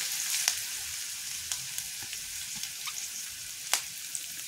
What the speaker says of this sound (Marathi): हा कांदा मध्यम गुलाबी कलर येईपर्यंत परतून घ्यायचा तेलावर